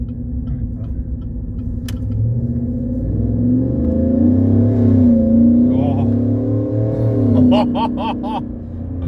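A Chevrolet Silverado V8 with a Walkingshaw full exhaust system rumbles deep and close, swelling in a couple of moderate revs above a steady idle while people talk over it.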